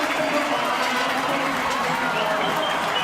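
The stadium crowd at Leichhardt Oval roars during a Wests Tigers versus North Queensland Cowboys rugby league match, a steady, dense crowd noise with voices mixed in.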